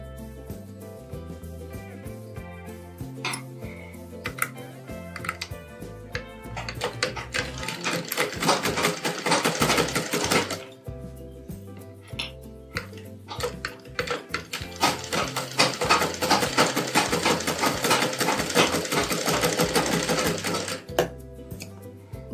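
A sewing machine stitches the shoulder seam of a lined blouse, joining front and back panels in two long close bursts of rapid whirring separated by a short pause, with light mechanical clicks between.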